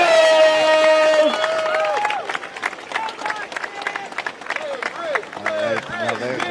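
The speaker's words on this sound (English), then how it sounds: "The crowd is cheering his name here" A crowd at a canoe freestyle world championship in Nottingham cheering and clapping for a junior kayak champion, whistles and shouts mixing with loud nearby talk and excited voices throughout.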